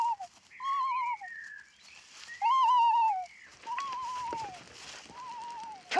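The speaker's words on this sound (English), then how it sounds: "small bird's song." Small birds sing in a forest in short, clear, whistled phrases that rise and fall. The calls are close and stand alone against quiet, with brief pauses between them.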